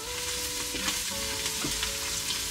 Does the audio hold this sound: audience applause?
no